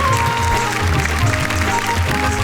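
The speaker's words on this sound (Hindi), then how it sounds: "जरा जोरदार तालियां बजाएं" Audience applause at a poetry gathering, a steady, close wash of clapping throughout with a low tonal hum running beneath it.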